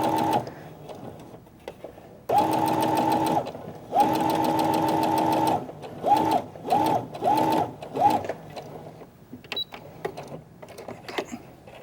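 Sewing machine stitching a hairline seam on sheer fabric, long steady humming runs broken by shorter start-stop bursts, close and clear with no talking.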